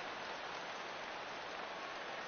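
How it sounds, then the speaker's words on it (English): Rain falling steadily at a baseball game, a faint even hiss of drops on the stadium surfaces with no other sounds standing out. "EK, how'd you like playing in the rain?"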